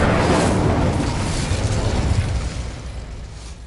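Incendio fire spell cast in Hogwarts Legacy, a loud whooshing burst of flame that roars at once and then slowly fades over a few seconds.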